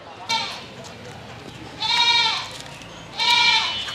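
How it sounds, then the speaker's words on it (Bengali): Goats bleat at a rural livestock market, three loud nasal calls spaced a second or so apart, close by over a steady murmur of crowd noise. "হাট থেকে ছাগল নিয়ে আমরা চলে আসছি লিয়াকত ভাইয়ের এখানে"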